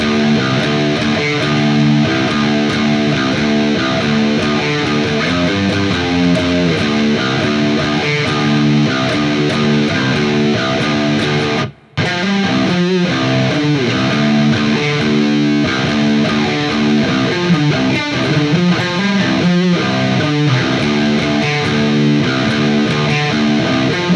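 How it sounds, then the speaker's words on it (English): A distorted electric guitar plays all eight bars of a riff slowly, a loud, sustained chugging groove with melodic high notes and one brief cut near the middle. "Let me play through the 8 bars slowly."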